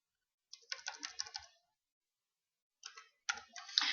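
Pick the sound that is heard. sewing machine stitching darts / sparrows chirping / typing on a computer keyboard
typing on a computer keyboard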